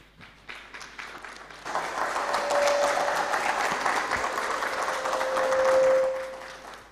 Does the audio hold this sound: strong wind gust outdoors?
no